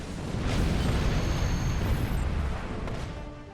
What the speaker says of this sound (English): I was too close to that explosion.